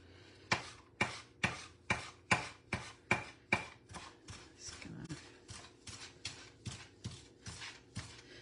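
A knife chops through fresh dill in a steady, even rhythm, about two cuts per second. The crisp strikes come close and clear, with the first several louder and the later ones softer.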